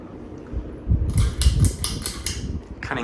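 A Hampton Bay quick-connect ceiling fan with a light kit runs with a slight wobble, giving a soft whooshing hum broken by a series of light, rapid rattling clicks.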